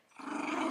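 Pet dog growling noisily during play, a close, continuous rough snarl that swells quickly and holds steady for under a second, with no talking.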